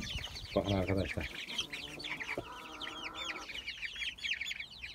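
A chicken in a backyard coop shared with pigeons clucks in short bursts close by, then gives a longer drawn-out call, over a constant bed of faint chirping.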